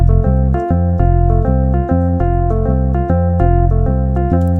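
Keyboard playing a left-hand universal bass line under a chord 1 voicing in a praise style, steady sustained bass notes changing in a regular rhythm beneath held upper chords, loud and close with no talking.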